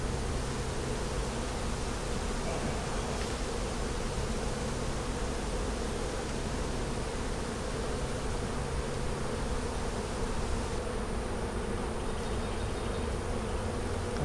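Swarm of honeybees buzzing steadily as their comb is cut out, a dense, constant, close droning hum with no pauses or talking.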